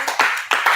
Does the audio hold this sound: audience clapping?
yes